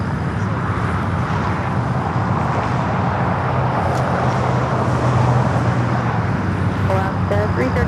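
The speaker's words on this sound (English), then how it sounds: "Alaska Airlines 332 taking off to Los Cabos on the MAX 8s" Alaska Airlines Boeing 737 MAX 8 taking off from LAX, a loud continuous jet roar with a broad rumbling wash holding steady throughout, with faint radio chatter in the background.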